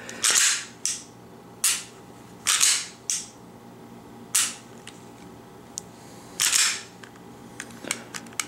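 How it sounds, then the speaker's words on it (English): A Glock pistol fitted with a Vogel trigger is dry-fired and reset over and over, giving sharp close clicks in an irregular rhythm, some doubled, with quiet gaps between. "a little bit of a take up, and then you get to that wall, trigger breaks, then the reset, right back out."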